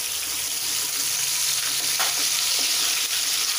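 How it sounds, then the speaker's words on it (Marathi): Green chili and garlic thecha frying in hot oil in a pan, a dense, loud, continuous sizzle with a few brief scraping stirs partway through. "यात आपण हा हिरवी मिरची लसूण ठेचा तळलेलाच आहे तो, तरी पण आपण तेलात घालून घेणार आहोत।"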